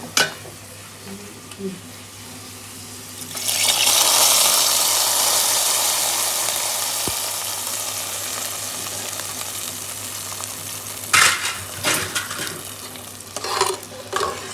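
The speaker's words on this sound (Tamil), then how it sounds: "இதுதான் நம்ம முந்திரி திராட்சையும் தரமாக இருக்குது அழகாக கோல்டன் ப்ரௌன்" Cashews and raisins sizzle steadily in hot oil, frying golden brown for Bakrid biryani, a loud broad crackle near the pan that swells and then eases, with stirring clatter near the end.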